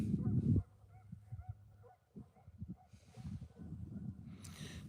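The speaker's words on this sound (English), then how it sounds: "That geese are squawking." Geese honk near water at a trout-fishing spot: one loud honk opens, followed by a run of quieter, scattered calls and rustling, with no talking.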